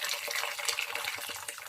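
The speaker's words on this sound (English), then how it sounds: "I'm going to add boiled water from the kettle" Boiled water from a kettle pours into a pot of rice for Nigerian jollof, a steady close splashing stream with no pauses.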